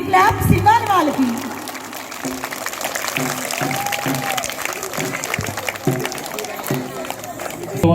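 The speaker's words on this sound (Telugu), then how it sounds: "మీరు బిగ్ క్లాప్స్ ఇవ్వాలి వాళ్ళకి" Audience clapping for students at a school Sankranti celebration, a burst of applause at the start fading under ongoing announcer talk and a lively hall crowd.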